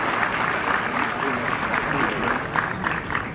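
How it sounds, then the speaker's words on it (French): An audience at a ceremony claps for those who gave gifts, a sustained wash of many hands applauding at moderate loudness with a faint murmur underneath. "Je voudrais qu'on applaudisse tous ceux qui nous ont donné ces beaux cadeaux."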